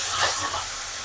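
Onion and tomato with a pinch of salt frying in a hot pan, a steady broad hiss of sizzling that swells briefly near the start, then holds even and fairly close, with no voices.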